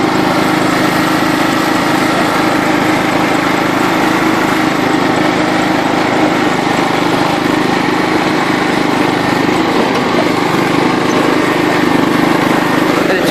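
A John Deere LT133 lawn tractor engine runs steadily while the mower is driven, a constant close buzzing drone with no pauses and no voices.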